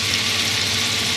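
Meat pieces searing in a very hot cast-iron cocotte, added a few at a time, give a steady, loud, close hiss of sizzling fat with no voices.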